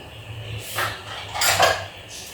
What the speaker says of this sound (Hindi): इसको ब्रश की मदद से या उंगली की मदद से आप इसको पूरे पैन पे फैला लें